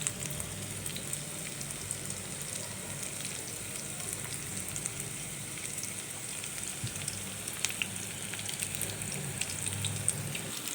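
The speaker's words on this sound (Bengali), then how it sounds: "এখন দিয়ে আমি এটা ভাজবো।" Banana flower fritters fry in oil in a frying pan with a steady, fairly faint crackling sizzle and scattered small pops, continuous throughout, with no talking.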